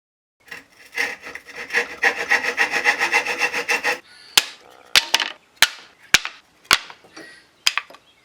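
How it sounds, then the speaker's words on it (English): Rhythmic back-and-forth sanding strokes on wood, close and steady, followed by a series of sharp, separate knocks and taps. "I gave everything a good sanding, including bringing the picture frame back to just unfinished wood."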